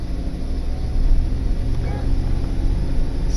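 A vehicle engine, apparently a large truck, revs and pulls away steadily in first gear, a loud continuous low rumble with a slight surge midway, close by.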